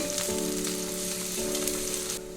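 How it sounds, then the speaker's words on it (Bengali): Seven or eight green chillies frying in a pan make a dense, close sizzle that holds steady throughout, with a couple of faint stirring touches and a steady tonal hum beneath, no talking. "সাত আটটা কাঁচা লঙ্কা দিয়ে দিচ্ছি লঙ্কাটা আপনাদের টেস্ট মতন দেবেন এটা ভালো করে ভেজে নেব"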